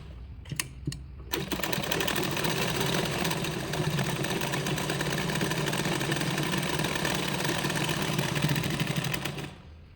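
A sewing machine stitches along the edge of a blouse: a few clicks at the start, then a steady, fast mechanical whirr running close and loud until it stops at the end.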